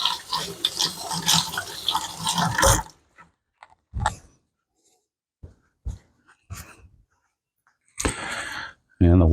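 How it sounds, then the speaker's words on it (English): Hands being rinsed under a running kitchen tap while making a homemade soy-lime sauce: a steady stream of water for about three seconds, followed by short drips and splashes. "So I've got to rinse my hands off."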